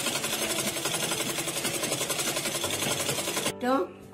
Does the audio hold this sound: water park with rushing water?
no